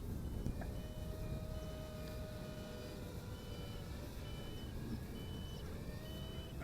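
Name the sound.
beeping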